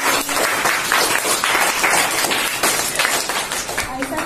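Students clap their hands in a school classroom activity, a loud, close burst of many small hands clapping in a busy, slightly uneven rhythm that continues throughout, with some voices mixed in.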